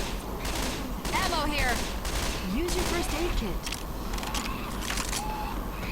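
Rapid gunfire from the zombie shooter game Left 4 Dead 2 crackles in dense bursts across the whole stretch, loud and continuous, while players talk over it.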